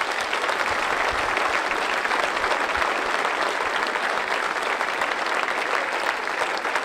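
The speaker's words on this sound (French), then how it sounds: "Applaudissez-le très fort." An audience at a French political support event for a legislative candidate applauds loudly and steadily, a dense, even wall of clapping that carries on without pause for about seven seconds.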